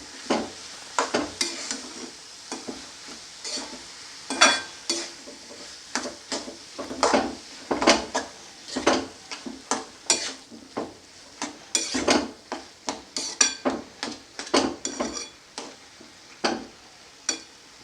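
Dried shrimp and bheto greens stirred in a cooking pot with no water left, giving repeated close scrapes and clinks of a spatula against the pan over a faint sizzle, irregular but constant.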